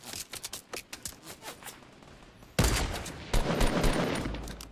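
Rapid bursts of gunfire crackle through a match of the video game Fortnite, first as scattered sharp volleys and then as louder, denser sustained shooting.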